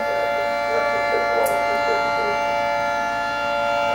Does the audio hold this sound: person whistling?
no